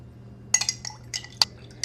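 Spoon clinking against a container while stirring Malk almond milk, a few sharp taps and scrapes in quick bursts over a quiet background, close and fairly crisp, no speech.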